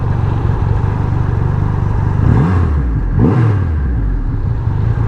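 A Triumph Rocket 3 GT motorcycle engine idles with a deep, steady rumble close by, then is revved twice in quick succession, each blip rising sharply in pitch and falling back to idle.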